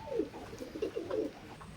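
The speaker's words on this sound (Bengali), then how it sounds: "এখন স্ক্রিনে যে কবুতর জোড়া দেখতে পাচ্ছেন, এটা ওমান ব্লাড লাইনের এক জোড়া বেবি" Baby Oman bloodline Teddy pigeons, a pair at two to three feathers, give a series of soft, low rolling coos, close and fairly quiet, with no talk.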